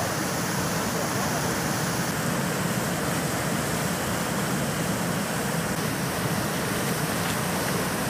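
Waterfall on the Samburá river near the headwaters of the São Francisco, giving a steady, dense rushing roar that fills the whole stretch without pause.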